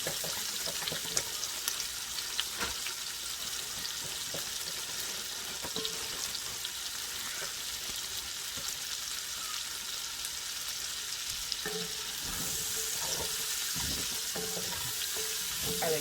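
Chopped onions and baby carrots sweating in oil in a single pot for a chicken dish, a soft continuous hiss and sizzle with faint stirring scrapes, low and steady throughout.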